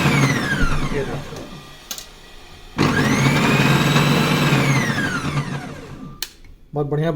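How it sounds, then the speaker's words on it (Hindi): An electric mixer grinder with a faulty wire whirs in bursts, its motor whining up and down with stops and restarts, loud and close, with some speech mixed in. "देखिए अभी आपको दिखाता हूँ मिक्सी चल रही कि नहीं"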